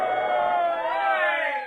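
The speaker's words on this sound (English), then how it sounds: "The crowd cheers." A boxing match crowd cheering: a dense, steady roar of many voices filling the whole moment, loud and sustained, tapering slightly at the end.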